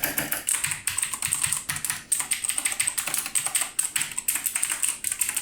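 Typing on a Massdrop x Input Club K-Type mechanical keyboard fitted with blue switches: rapid, continuous loud clicky keystrokes close up, with no voices.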